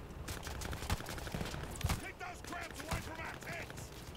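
Rapid gunfire from the video game Vanguard crackles in sharp bursts at low level, mixed with other game noise and voices talking over it.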